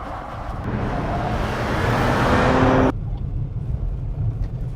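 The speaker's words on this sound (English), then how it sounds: "So we're here in California taking this new Macan on the racetrack at Willow Springs." Porsche Macan on the Willow Springs racetrack in California, a steady loud engine and road roar that swells over a few seconds and then drops suddenly to a lower, softer rumble.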